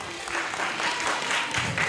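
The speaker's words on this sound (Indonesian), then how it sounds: "Tepuk tangan buat Kinanti" A small group claps steadily after a student's presentation, a brief close burst of applause that stays even throughout.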